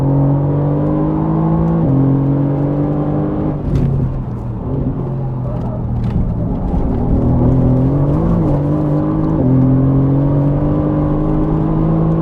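A Mercedes-AMG GT R on the Nürburgring drops a gear, with a steady loud engine drone that dips and then climbs again as it pulls hard, continuous and close inside the cabin.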